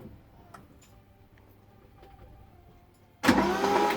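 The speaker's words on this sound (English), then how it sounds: "keep it winding over until you get oil pressure" Triumph Stag V8 starter motor cranking the engine over, starting abruptly after a few seconds of quiet ticking and shuffling, loud, close and steady to the end.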